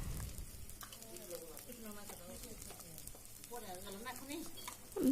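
Mutton curry masala frying in oil in a pan as it is stirred, a soft steady sizzle under quiet scraping strokes, faint and close, with a voice talking over it.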